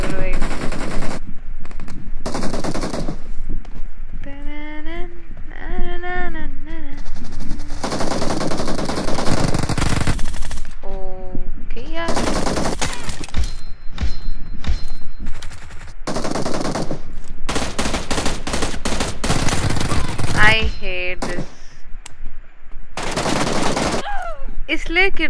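Automatic gunfire in the mobile shooter BGMI sounds in long, dense bursts and rattling volleys that fill the whole stretch, loud and continuous, with tonal game sounds and a voice over the top.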